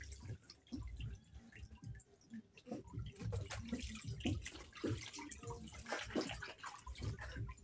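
A baby is bathed in warm water, giving close splashing, dripping and sloshing that come in irregular bursts, with no talk.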